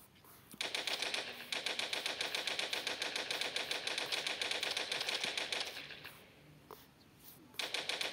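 Rapid machine-gun fire in the video game Toilet Monster, long rattling bursts of evenly spaced shots with brief pauses between volleys, loud and continuous for most of the stretch.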